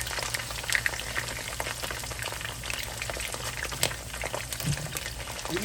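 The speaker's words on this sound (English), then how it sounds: "I'm just gonna start putting these Brussels sprouts right into the pan here" Brussels sprouts fry in a skillet, a steady close crackle and sizzle with scattered pops and light clatter as they settle in the pan.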